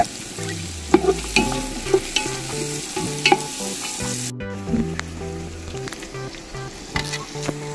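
Capsicum sautéing with salt and a dried lemon for chicken mandi: a continuous close sizzle and crackle in the pan with periodic stirring scrapes and knocks. There is a brief cut partway through, and no one speaks.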